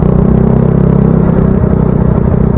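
Congested city traffic in Cagayan de Oro City, with a steady low rumble of idling and creeping car and motorcycle engines close by, continuous throughout and with no talk.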